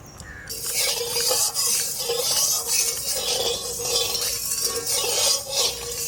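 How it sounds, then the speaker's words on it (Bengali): Small river fish, including tengra, frying in oil with a steady, close sizzle and bursts of crackling and spattering that rise and fall throughout. "মাছগুলো ভাজবো তেল দিয়ে দিচ্ছি"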